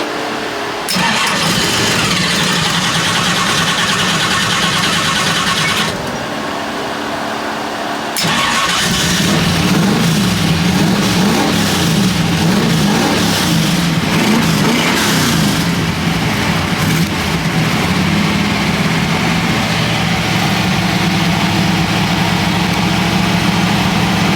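A hot rod's engine cranks and catches at a Hot Rod Power Tour stop in Indianapolis, then settles into a loud, rough, lumpy idle close by, with a brief dip before the steady rumble resumes.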